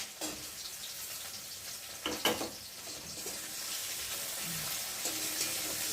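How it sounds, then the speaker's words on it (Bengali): Onion, garlic and green chillies frying in a pan give a soft, continuous sizzle, with a brief clatter of utensil stirring partway through and no talk. "ভালো করে ভেজে নেব"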